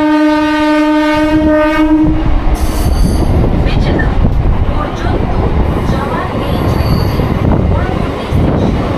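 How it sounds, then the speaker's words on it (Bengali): Local train on the Digha–Howrah line departing Tamluk station: a loud, steady horn blast for about two seconds, then close rolling rumble, wheel squeal and clatter as it moves off, with voices underneath. "অলরেডি সিগন্যাল হয়ে গেছে, ট্রেন সবুজ সংকেত পেয়ে গেছে, এবার এগোবে মেছেদার উদ্দেশ্যে।"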